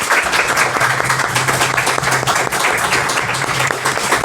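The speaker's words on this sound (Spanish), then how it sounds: "Un aplauso para el editor." Steady, loud applause from an audience at a Spanish book presentation on witches in Spain, sustained clapping filling the whole stretch without pause.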